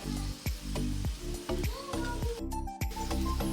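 Palm fruit fritters frying in oil in a small wok, a loud steady sizzle with dense bubbling that runs through the whole moment, broken by several sharp clanks.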